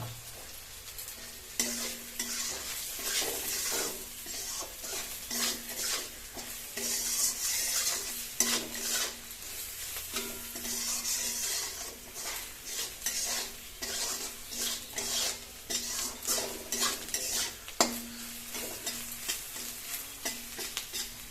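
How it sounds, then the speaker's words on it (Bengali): Lentil dumplings (dal bori) frying in a pan, a steady close sizzle running throughout with repeated stirring scrapes and occasional sharp knocks of a spatula against the pan. "এখানটা আমাদের ডাল বড়ি কিন্তু ভাজা হয়ে গেছে"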